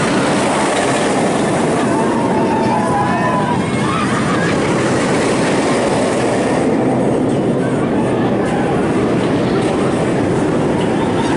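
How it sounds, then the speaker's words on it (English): A B&M floorless roller coaster, the Dominator, opened in 2008 at Kings Dominion, rumbles along its track in a steady, broad roar that fades slightly near the end, with no talk over it. "the Dominator opened in 2008, was built by B&M, and it is a floorless coaster"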